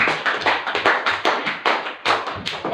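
Brief round of hand clapping in a classroom, a small group applauding in quick irregular taps for under three seconds, close and fairly loud with no talk.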